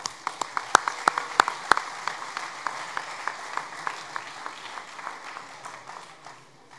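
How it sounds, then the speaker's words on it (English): An audience at a school sports awards ceremony applauds its sports stars. Several loud, sharp claps come near the start, then a steady, thinner run of clapping fades gradually over several seconds. "A round of applause to our sports stars."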